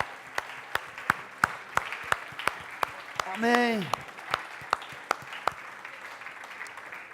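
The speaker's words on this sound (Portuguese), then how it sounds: "Você pode aplaudir ao Senhor, amém?" A church congregation applauds sparsely, scattered claps popping out at irregular intervals over a soft background, with a brief voice rising in the middle.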